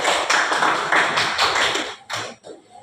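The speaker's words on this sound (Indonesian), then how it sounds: "Aplaus untuk kelompok" A classroom group applauds a student team, a burst of light hand claps that runs in dense waves for about two seconds, then thins to a few scattered claps.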